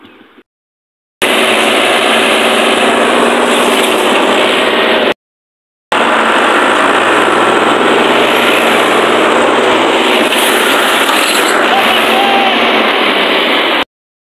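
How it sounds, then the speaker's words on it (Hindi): Three tractors strain to push a heavily loaded trolley in a rural setting, their engines a loud, steady, close drone that cuts off abruptly twice before running on without a break. "ये 30 ट्रैक्टर मंगवा लिया है क्योंकि वज़न ज़्यादा है। अब जोर लगाएंगे।"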